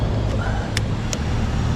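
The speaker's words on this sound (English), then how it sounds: "So I'm gonna let this car go." A car goes by on a roadway with a turn lane, heard from an e-bike waiting to turn, as steady near road rumble with faint clicks and no talking.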